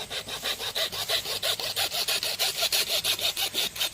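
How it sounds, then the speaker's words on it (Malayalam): A hacksaw blade cuts through a sugarcane stalk, with fast, even back-and-forth rasping strokes up close that keep a steady rhythm throughout. "ആക്സോ ബ്ലേഡ് വെച്ച് മുറിച്ച നല്ലത്."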